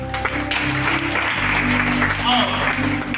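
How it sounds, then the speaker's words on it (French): A church congregation applauds during a French-language sermon, a sustained wash of clapping mixed with voices and some tonal background, fairly loud and close. "On acclame la parole de Dieu."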